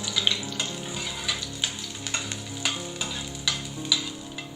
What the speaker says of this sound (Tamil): நம்ம சேர்த்த மல்லி ஓரளவுக்கு ஃப்ரை ஆனதுக்கு அப்புறமா இதுல 6 ல இருந்து 7 பூண்டு பல் இந்த மாதிரி கட் பண்ணிட்டு சேர்த்துக்கலாம்